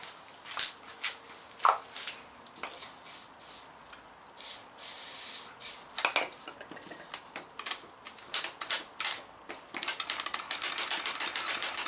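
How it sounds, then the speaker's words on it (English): Lubricant spray hissing onto a classic Mini during starter motor removal, with a longer burst mid-way amid close metallic clinks and tool taps, the short hisses and clatter coming in an irregular stop-start rhythm. "give this one a spray up and see if that helps."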